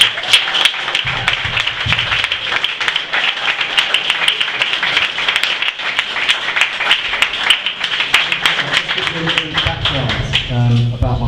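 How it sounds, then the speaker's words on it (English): Audience at a boxing club opening claps steadily, crisp individual claps rising into sustained applause across the room, with talking emerging near the end. "So a massive round of applause please for our"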